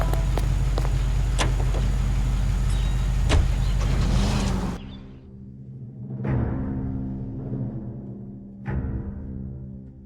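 Car driving in the video game L.A. Noire: a steady engine hum with road noise fills the first half, then drops to a quieter idle broken by several sharp clunks, with no one talking.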